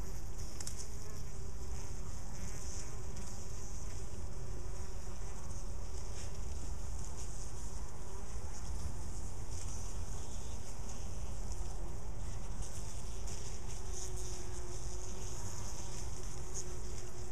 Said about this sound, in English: This carpet of dying bees continues all the way up